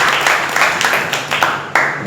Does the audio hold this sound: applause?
yes